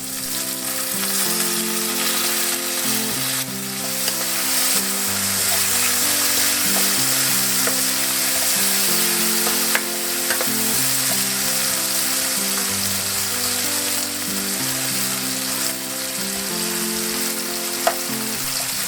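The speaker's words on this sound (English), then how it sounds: "let that fry for 2 minutes." Potatoes and pork chops fry in one pan with chili flakes and paprika, a loud continuous sizzle and crackle over looping background music, with no voices.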